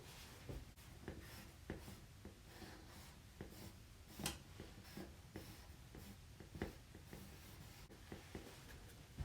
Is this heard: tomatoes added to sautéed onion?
no